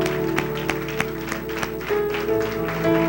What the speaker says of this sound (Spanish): Póngase de pie y denle un fuerte aplauso al Señor